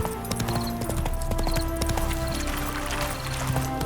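Steady clip-clop of a horse's hooves in The Witcher 3 video game, a continuous rhythmic trot heard up close over layered game ambience and music tones, with no talking.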